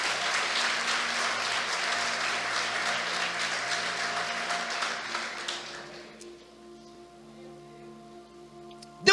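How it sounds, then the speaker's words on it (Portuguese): A church congregation applauds in a sustained burst of clapping over soft, held organ-like tones, the clapping fading away after about six seconds while the music carries on alone. "Você pode aplaudir a Ele aí, em nome de Jesus?"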